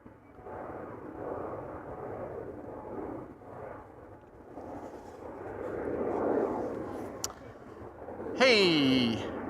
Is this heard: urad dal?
no